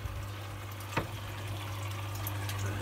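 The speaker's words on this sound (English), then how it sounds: "Let's chuck the old skimmer on so I can show you" A protein skimmer runs in a home reef aquarium as a steady low hum with a constant watery hiss and gentle bubbling, one faint click near the start, with no voices.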